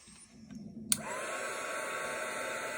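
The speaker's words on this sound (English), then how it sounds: "I'm just going to take my heat tool again, and I'm just going to prop the wings up a bit" A heat tool switches on with a click and blows a steady, close airy whoosh over melted embossing powder, continuing evenly to the end with no speech.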